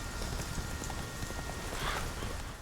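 Roach the horse from The Witcher 3 trots up with a steady clip-clop of hooves, moderately close, over a dense ambient background with a faint patter like rain.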